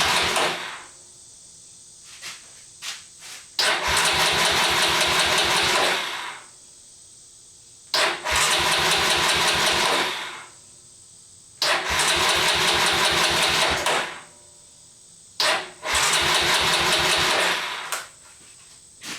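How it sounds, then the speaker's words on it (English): A Honda NX250 motorcycle engine cranking in four long bursts separated by pauses, the starter whirring with a rapid pulsing rhythm each time, loud and close, with brief clicks and handling noises between attempts. "After cranking on the bike quite a while"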